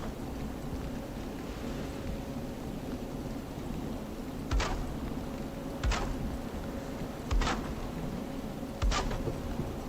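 Rain in the video game Valheim: a constant soft hiss of falling rain, broken by four sharp, evenly spaced bursts, with no voices.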